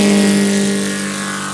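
Engine of a large-scale, home-built RC Mitsubishi A6M5 Zero model plane fitted with an 84 engine, droning loud and steady at close range with a slight fade, no voices.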